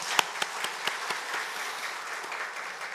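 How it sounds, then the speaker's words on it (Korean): Congregation applauding during a Sunday church service, a fairly dense patter of many hands with a few sharper claps standing out, steady and moderately loud for about three seconds. "박수 한번 하겠습니다."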